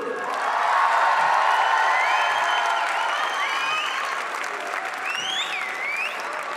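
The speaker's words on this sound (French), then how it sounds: "on va faire un grand applaudissement pour eux" A big crowd applauds and cheers at the RJ2018 gathering in honour of uncited people, a loud sustained wash of clapping with whoops and shrill shouts rising over it throughout.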